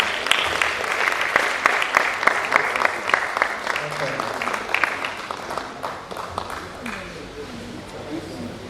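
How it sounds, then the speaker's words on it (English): Audience applause in a medical conference plenary session, many hands clapping loudly at first, then thinning and fading toward the end as a voice begins speaking over the tail. "Keep clapping, please."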